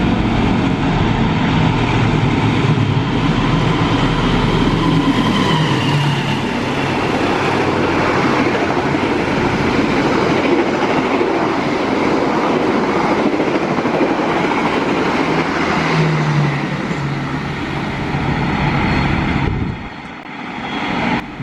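The Jayakarta 252 passenger train, hauled by a former freight locomotive, roars past close by in a long, loud continuous rumble with rhythmic wheel clatter, then fades abruptly near the end.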